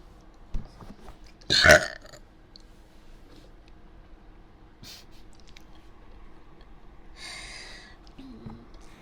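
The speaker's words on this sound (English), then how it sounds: "Oh my gosh, I need a burp." One loud, close burp erupts in an otherwise quiet ASMR setting, with only faint mouth and handling noises around it.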